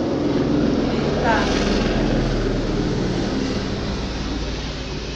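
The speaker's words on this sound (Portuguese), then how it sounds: "Helicóptero, gente. Será que é da polícia?" Helicopter flying overhead, a broad steady rotor-and-engine rumble filling the clip, loud and close at first and easing slightly toward the end, with no talk over it.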